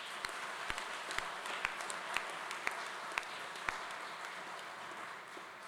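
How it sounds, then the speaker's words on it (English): Applause from a graduation ceremony audience, a broad steady hiss of many hands clapping, heard from a distance and fairly faint, with a few sharper claps standing out at regular intervals. "let's give our staff a round of applause"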